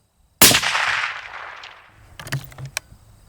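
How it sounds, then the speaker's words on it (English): A single suppressed rifle shot cracks sharply and close, its report decaying over about a second, followed by a few faint distant clicks and knocks, with no talking. "All right, first shot, see how we do."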